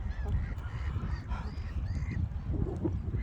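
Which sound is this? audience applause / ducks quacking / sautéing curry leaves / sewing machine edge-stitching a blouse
ducks quacking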